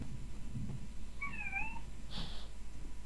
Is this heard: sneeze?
no